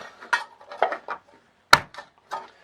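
A metal can packed with wood for making charcoal has its lid pressed shut, a few light metallic clinks and scrapes followed by one sharp clank, then a softer rattle, close and clear.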